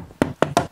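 Head bumping against the door frame of an E34 BMW while working on the door, three quick, sharp knocks in succession, close and fairly loud.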